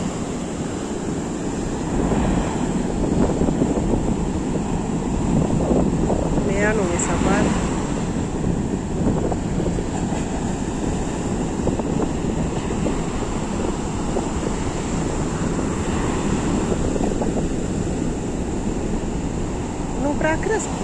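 Sea waves wash onto the beach at Eforie Nord by the landing pier on the Black Sea coast, a steady rushing surf under constant wind buffeting the microphone, loud and continuous throughout with no pause.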